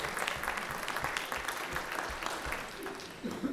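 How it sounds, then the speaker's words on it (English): An audience at a panel on African American economics gives sustained applause, dense and even throughout, with a voice briefly rising near the end. "please give a round of applause to the Congressman's chief of staff"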